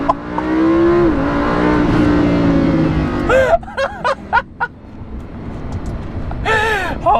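A Lamborghini engine roars loudly and climbs in pitch as it launches and accelerates, followed by sharp revving bursts, up close.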